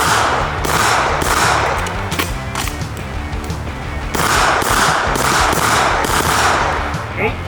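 Rapid strings of gunshots from an MPX pistol-caliber carbine and a Glock 47 pistol on an outdoor range drill, loud sharp cracks in quick bursts with brief pauses, and faint voices in the background.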